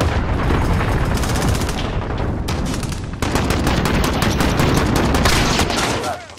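Missile launch and explosions in Call of Duty: Modern Warfare, a loud, continuous barrage of booms, blasts and rapid gunfire lasting several seconds, with a sharper burst midway and a faint voice underneath.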